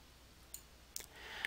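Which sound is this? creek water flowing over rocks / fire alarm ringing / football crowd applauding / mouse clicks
mouse clicks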